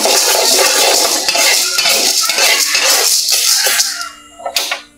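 Lentils being roasted in a pan give a loud, busy rattle and scrape as they are stirred with a utensil. The sound stops abruptly near the end, followed by a couple of brief metallic knocks.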